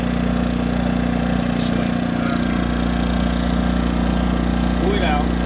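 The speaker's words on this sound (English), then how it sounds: "give it a good yank. Okay, and the engine will start" A Yamaha inverter generator engine idles steadily after a pull-start, a close, loud, even mechanical drone with a low throb, while a person speaks briefly over it.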